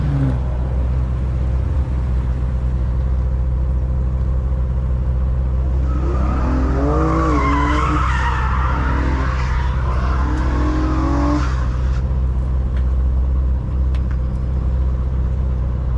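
A BMW M8 skids and revs on a track, tires squealing in a wavering burst over a steady low engine drone, the sound coming through as playback from a video.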